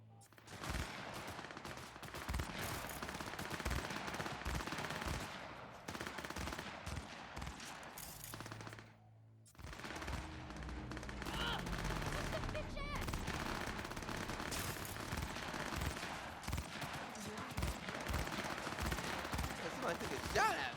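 Gunfire in the video game Cyberpunk 2077, rapid bursts of automatic shots and scattered single cracks across the scene, pausing briefly near the middle before resuming, with speech mixed in.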